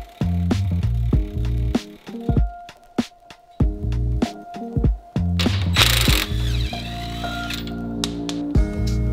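A hand ratchet takes out the front suspension bolts on a Toyota GR86. Loud, close bursts of rapid clicking start and stop, broken by short pauses and a brief metallic clatter, with no voices.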